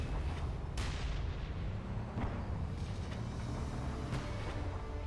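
Tanks rumble through a battle in the PC shooter Frontlines: Fuel of War, a dense low roar with sharp cannon-like blasts and distant booms layered over constant combat noise, with no voices.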